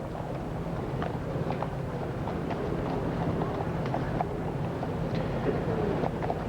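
Horses' hooves clip-clop steadily in a slow 1997 funeral procession for Princess Diana, escorted by mounted police and bearers from the King's Troop Royal Horse Artillery, many irregular hoof strikes over a low steady crowd and street rumble.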